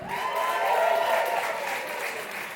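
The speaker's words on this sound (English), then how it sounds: "And please make some noise if you want to hear more from Rachel Dry." Crowd at a New York one-liner comedy show clapping and cheering for comedian Rachel Dry, a short burst of steady applause with scattered voices that swells in the middle and tapers off, somewhat quieter than a full ovation.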